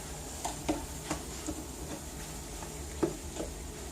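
Mushroom chicken sizzling in a pan while being stirred, a soft steady fry under repeated light scraping and clicking strokes of the utensil, close up and without voices.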